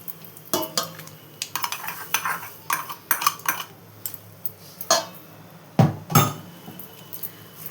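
Metal utensil clinks and scrapes against a pot as tempering is mixed into coconut rice, irregular sharp knocks close by, no talking.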